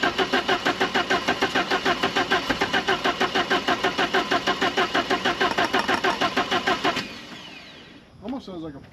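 A car engine with a suspected fuel pump fault cranks in a fast, even starter rhythm for about seven seconds without catching, then stops, leaving near quiet with a brief faint sound after.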